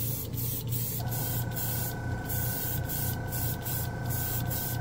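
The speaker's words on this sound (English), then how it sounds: "Air compressor is kicking in." An air compressor kicks in during spray painting, adding a steady motor hum beneath a continuous hiss of spray. The spraying comes in short, regular pulses, close and fairly loud.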